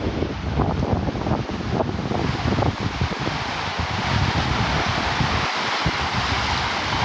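Wind blows hard outdoors on the Pacific Ocean coast, a constant loud roar buffeting the microphone, with no speech.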